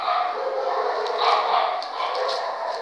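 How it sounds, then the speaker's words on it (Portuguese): A pack of dogs barks and yips excitedly in the distance, a steady busy chorus with a few louder barks standing out. "cachorrada agora"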